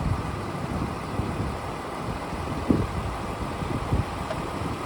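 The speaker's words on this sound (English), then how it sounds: "Compressor is on." A car engine idles steadily with the air-conditioning compressor switched on during a refrigerant recharge, a constant low rumbling hum with a couple of soft knocks, close by and with no voices.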